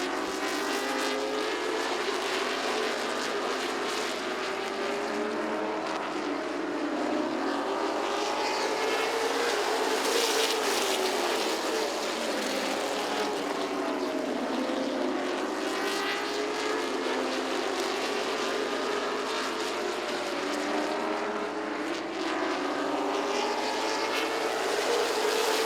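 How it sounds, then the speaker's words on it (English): Late model race cars roaring around Southside Speedway, a steady, loud wash of engines droning and rising as the field passes, with no talking over it. "20 laps are into this race, 30 more to go here at Southside, and Eddie Johnson grabbed the lead on that"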